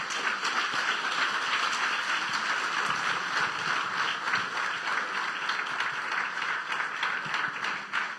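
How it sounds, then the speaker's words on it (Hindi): A congregation at a church sermon applauding, a dense sustained wash of clapping from a large crowd, steady and fairly loud throughout. "यस्सु के लिए जोरदार तालियां बजा देंगे।"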